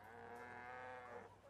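Cattle in The Last of Us Part II give a single drawn-out moo, faint and somewhat distant, a sustained tonal low call lasting over a second with no talk.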